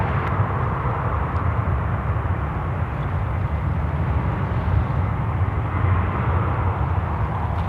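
Steady broadband jet roar from an airliner departing Sydney Airport on a service to Bengaluru, sustained and fairly loud throughout with deep low rumble and no voices.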